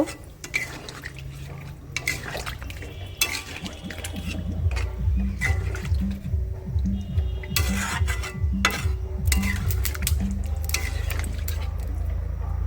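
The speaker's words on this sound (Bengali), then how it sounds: "পরিমাণ মতন জল দিয়ে দেবো দিয়ে ভালো করে নাড়া দিয়ে নেব" Water poured into a pan of egg curry and stirred, with splashing and liquid sloshing followed by repeated clattering spoon scrapes against the pan, close and fairly loud.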